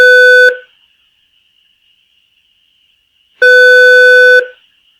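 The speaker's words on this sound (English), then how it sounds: "just ignore the phone ringing" Two loud electronic ring tones about three seconds apart, each a steady harmonic buzz, separated by near silence.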